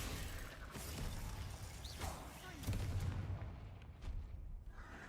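Spell blasts and impacts from combat in Hogwarts Legacy, a dense continuous barrage of booming, crackling bursts with several louder hits, busy and close throughout.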